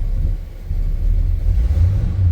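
A 1950 Ford Custom street rod idles after a cold start, giving a low, steady, rumbling engine drone at close range, with no talking.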